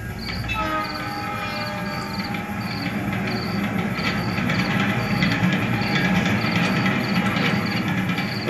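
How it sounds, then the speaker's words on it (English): A diesel train rolls by with a constant heavy rumble and clattering wagons, a steady high whine riding on top, loud and continuous throughout without any voices. "My next input is actually a diesel driving by."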